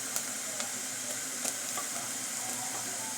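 A spoonful of garlic frying in very hot oil with almost-cooked onions for butter beans in coconut milk, a steady close sizzle with light stirring taps.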